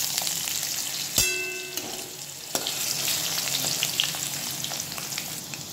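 Potato pieces dropped into hot oil already tempered with a dried red chilli and five-spice, giving a sharp burst of sizzling followed by steady, close frying crackle with occasional stirring clicks.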